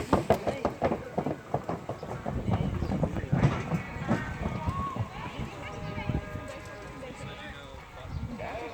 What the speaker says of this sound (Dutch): Mooi paardje insturen welke kant hij op moet.